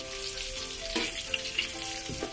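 Onions fry in a hot pan with a steady crackling sizzle close by, with a few sharp clicks near the end and no voices.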